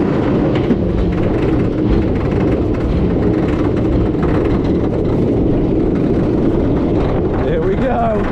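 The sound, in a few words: roller coaster ride at Energylandia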